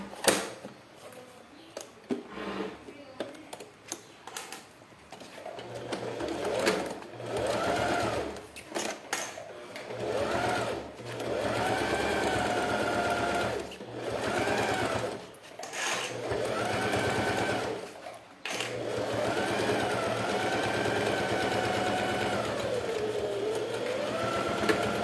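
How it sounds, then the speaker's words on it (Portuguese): Sewing machine stitching a thermal lunch bag, close and buzzing in repeated runs of rapid needle strokes with short pauses between them. "Vou costurar aqui do outro lado."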